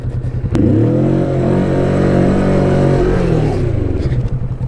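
Kawasaki Vulcan S motorcycle engine revving up loudly close by, a sharp blip followed by a sustained high rev that holds and then drops back to a throbbing idle.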